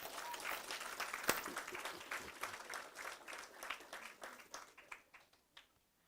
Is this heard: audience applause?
yes